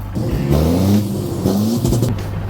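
A Victor 380 semi-dump truck's engine revs loudly and steadily at close range, its low growl rising and falling for a couple of seconds with no talk over it.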